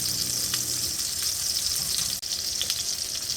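Salisbury steak patties fry in a pan with a steady, close hiss and crackle, carrying on evenly for a few seconds with no talking.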